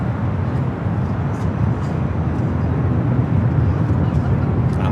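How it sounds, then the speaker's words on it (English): An EVA Air Cargo Boeing 777 freighter arriving at LAX produces a loud, steady low-frequency roar of jet engines, broad and continuous throughout. "The EVA Air Cargo 777 freighter up next."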